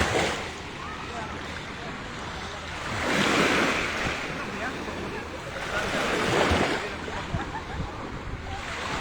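Sea waves at Sembawang Park wash ashore in two rolling surges with wind buffeting the microphone, heard alone without talk.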